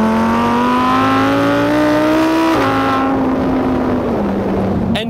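A 2021 Lamborghini Huracan EVO RWD coupe engine revs hard and loud, its pitch climbing steadily, stepping down briefly, then settling as the revs ease off near the end, with no talking over it.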